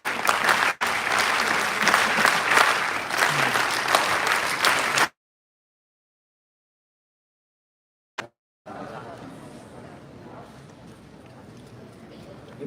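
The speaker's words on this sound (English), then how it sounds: "Can we have the attendance clap to welcome him" A youth summit audience claps steadily and loudly for about five seconds to welcome the next speaker, followed by silence and then low room noise.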